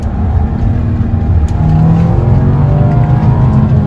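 A loud Audi Q7 engine revs up and pulls harder after a downshift to first gear, its pitch climbing steadily as it accelerates, heard from close by with constant road noise.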